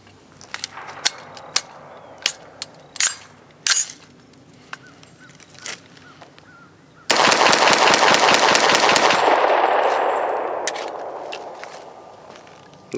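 A CMMG Guard 45 pistol fires Hornady Critical Duty hollow point rounds outdoors. Scattered handling clicks come first, then a loud, rapid string of shots over about two seconds, followed by a fading echo.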